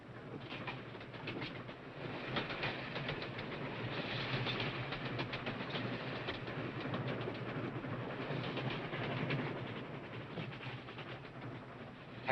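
A passenger train running toward the border gives off a steady, dense rumble with a faint repeated clickety-clack of wheels over rail joints. It holds at an even loudness throughout, with no talking.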